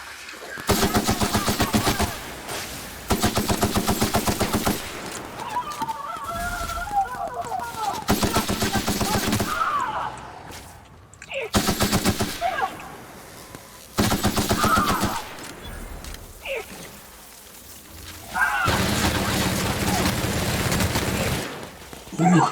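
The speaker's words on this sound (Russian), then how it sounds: "А пулемет, оказывается, круть." Machine-gun fire in The Outer Worlds, long sustained bursts of rapid automatic shots separated by short pauses, loud and close, with game sounds between the bursts.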